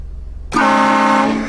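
A train horn mounted on a car lets out one sudden, loud, sustained blast after a moment of low background rumble, close and alone without talk.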